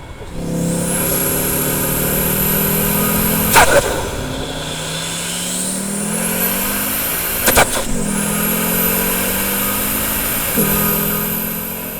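An Audi RS3 engine fitted with a Forge carbon intake kit revs and accelerates through rising gears, with three sharp shift cracks and a loud, close, continuous growl.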